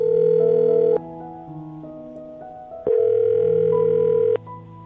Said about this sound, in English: I'll dial the phone number and get him on the phone